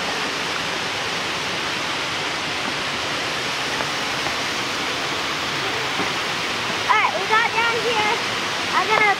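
Water rushing in a stream as a constant loud hiss, close by, with a person speaking over it near the end.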